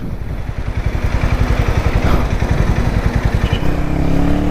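Harley-Davidson X440 motorcycle running on the road with a loud, steady engine and exhaust drone, a throbbing low-frequency pulse that holds throughout, and no talk.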